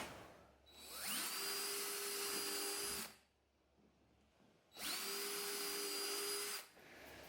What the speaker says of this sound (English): I've got to drill the holes for the lift and lower lines in those remaining spots using the 3/16 inch drill bit.